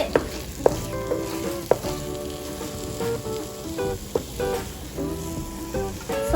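Gooseberry (amla) pickle is stirred in a hot pan, a continuous sizzle broken by several sharp knocks and scrapes of the spoon against the pan, fairly close, over a faint tonal background.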